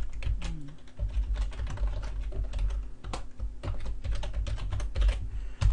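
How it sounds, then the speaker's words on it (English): Rapid clicking of keys on a computer keyboard as a username and password are entered, steady close typing in uneven bursts with no talking. "So here you type in the username and password."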